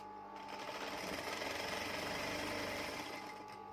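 A sewing machine runs steadily for a few seconds, stitching across the top of a bed sheet in one continuous close whirring run.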